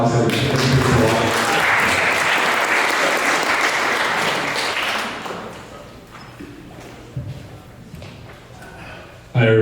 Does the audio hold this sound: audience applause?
yes